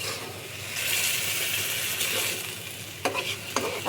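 Taro stolons fry with ginger and garlic in a pan, giving a steady close sizzle and hiss, with a few sharp spatula scrapes and stirs near the end.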